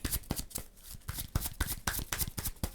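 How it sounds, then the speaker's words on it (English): A deck of game cards for the Legendary Bond 007 board game is shuffled by hand at close range, a brisk run of riffling flutters and soft slaps with no talking. "And then we're going to shuffle our deck"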